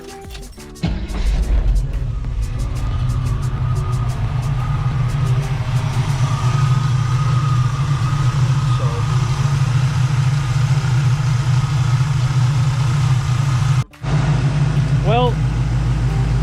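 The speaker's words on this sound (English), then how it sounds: "Let's start the car again." A car engine fitted with an Edelbrock AV2 carburetor idles steadily, holding a loud, even low rumble for most of the span after starting up, with a brief dropout near the end.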